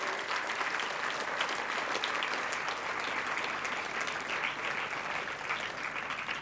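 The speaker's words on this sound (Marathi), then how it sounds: "त्यांच्यासाठी एकदा जोरदार टाळ्यांचा गजर करूयात" An audience at a school annual day function applauds steadily, a dense, continuous roar of clapping that holds evenly throughout without voices over it.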